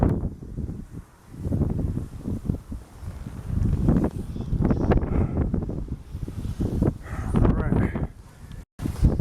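Wind blowing across a rocky mountain trail on a rock scramble, heard as a steady, close rumbling buffet against the microphone that swells and dips in gusts for the whole stretch.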